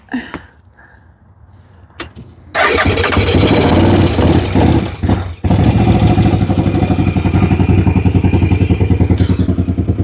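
A fire-damaged CF Moto Z Force 800 side-by-side cranks briefly after a key click, catches and settles into a loud, uneven, throbbing idle with a rough pulsing rhythm, close by.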